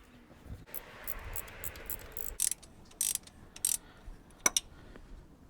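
A ratchet tightens a 19mm nut on a car motor mount in quiet, uneven bursts of clicking, a few short spurts separated by pauses, close by and alone.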